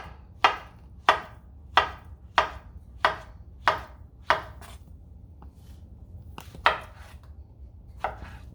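A knife chops through fried plantain on a cutting board in sharp, evenly spaced strikes, seven in a steady rhythm, then a pause and two more, close and distinct.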